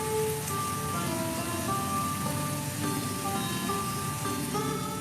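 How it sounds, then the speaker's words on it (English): Steady rain falls on a surface as an even, continuous wash of patter, with no pauses and no voices. "Sometimes the rains flooded it, pouring down all the water there was in the sky."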